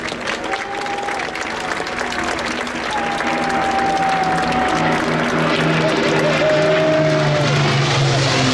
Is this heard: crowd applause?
yes